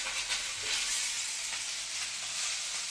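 Onion and garlic sizzle in a pan, a continuous bright frying hiss with soft stirring texture, close and steady throughout.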